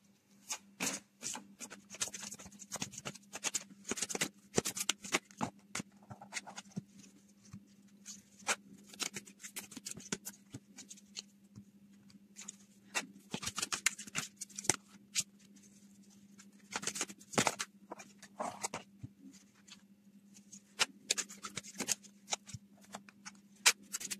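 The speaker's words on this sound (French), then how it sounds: "Je vais faire le tirage" Cards being shuffled for a card-reading draw make repeated soft riffling and patting bursts close by, over a faint steady hum, continuing throughout with brief lulls.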